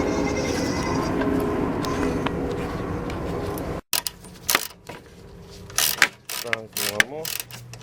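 Radiator mounting bolts being tightened on a 2001 Dodge Caravan with a 3.3L V6, heard as close ratchet clicks and metallic clinks in short bursts after a steady background hum.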